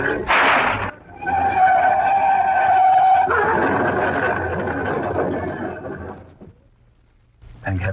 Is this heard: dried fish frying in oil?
no